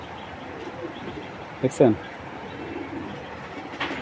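A racing pigeon gives a short, low coo, a brief burst partway through. Someone talks over a quiet room background.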